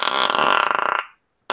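A person voices an upbeat, bubbly mouth-made fart imitation, a rapid fluttering buzz lasting about a second before it cuts off, followed by brief silence.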